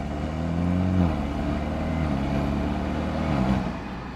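A BMW 428i engine drones steadily from the intake side while driving, a loud, continuous low hum with slight swells in pitch as the car moves.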